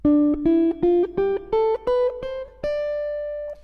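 A clean electric guitar plays eight single notes climbing a D Dorian scale, evenly spaced, the last note ringing out longer before fading.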